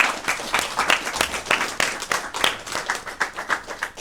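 A room of audience members claps for panel speakers at a tech discussion event, a lively burst of individual hand claps that stays fairly close and even, with some voices faintly mixed in.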